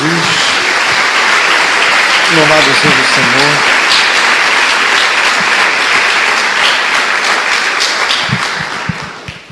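A church congregation applauds loudly and continuously for several seconds, sustained clapping that fades near the end, with someone briefly speaking over it.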